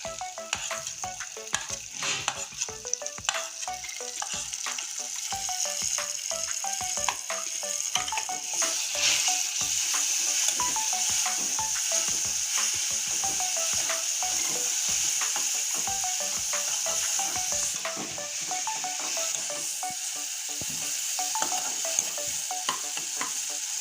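Onion, garlic and dried red chili paste sizzling and frying in a pan, with steady crackling and repeated scraping stir strokes throughout, close and fairly loud, no voices.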